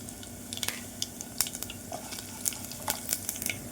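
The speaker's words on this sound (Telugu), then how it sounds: "శనగపప్పు మినపప్పు వేసుకోవాలి తర్వాత వన్ స్పూన్ జీలకర్ర వేసుకోవాలి" Chana dal, urad dal and cumin seeds fry in hot oil for a gongura chutney, giving a steady close sizzle with scattered crackling pops and sputters throughout, no voices.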